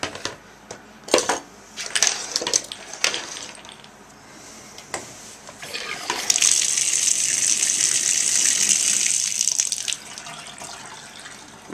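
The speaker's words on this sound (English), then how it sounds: "it makes that gargling sound that it's draining really quick" Water rushing and gurgling down a freshly unclogged bathtub drain, starting with splashy clatter and settling into a steady, hissing flow that fills the space.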